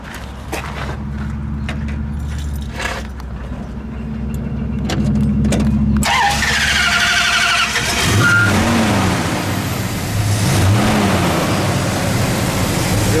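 A 1970 Dodge Dart GT with a 340 V8 cranks and fires up with the hood open, settling into a loud, steady idle with a few blips of the throttle. No one talks over it.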